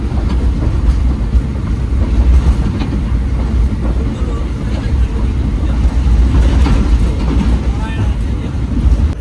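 Passenger train on the Hazara Express pulling into Mehrabpur railway station, a loud rumbling, rattling roar of wheels and carriages heard from on board, with someone talking over it.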